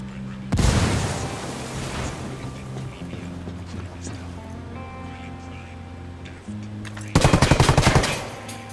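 A frag grenade blasts with a sudden heavy boom in Ghost Recon Wildlands, its rumble fading over several seconds before a rapid, loud burst of automatic gunfire rattles out near the end.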